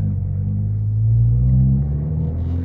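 A deep, steady Abarth 595 engine rumble fills the cabin, swelling slightly in the middle before settling back, with no voices over it.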